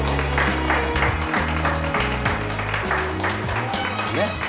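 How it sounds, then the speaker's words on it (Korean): A live audience at a Korean TV lecture by a magician bursts into applause after a card trick. The clapping is steady and sustained beneath music and a voice. "수고해준 우리 세 분에게도 다시 한번 큰 박수 주시면 감사합니다"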